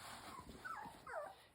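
Mini Bernedoodle puppies at play make soft, quiet growls, whimpers and little yips in short bursts against a low background hiss.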